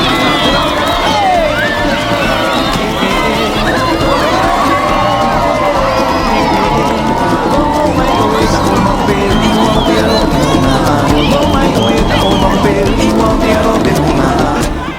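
Large crowd on Matira beach, Bora Bora, at the finish of an outrigger canoe race: loud sustained hubbub with cheering, whoops and shouting children, constant and close for the whole stretch.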